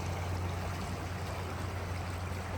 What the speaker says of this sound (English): Gotta love the sound of the Rio Grande just smoothly working its way on down